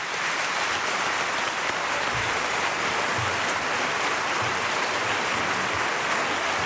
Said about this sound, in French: Ces applaudissements viennent du public rouennais